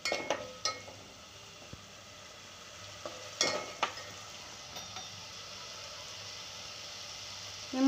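Masala paste of ginger, garlic and coriander sautéing in a pan for a mutton rassa, a faint steady sizzle broken by a few sharp scrapes and clinks of a spoon early on.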